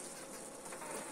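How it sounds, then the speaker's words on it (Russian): Honeybees in a wintering hive give off a steady, dense buzzing hum, heard close up and continuous throughout the short stretch with no voices. "первая причина, по которой пчелы начинают гудеть, это недостаток меда"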